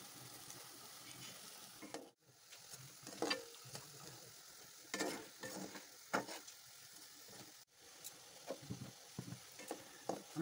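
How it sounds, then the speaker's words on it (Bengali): Semolina gulab jamun deep-fry in oil while being turned: a quiet, steady sizzle broken by recurring scraping and stirring bursts, with two abrupt pauses in the frying hiss. "এমনি করে ভাজতে হবে উল্টিয়ে পাল্টিয়ে একদম।"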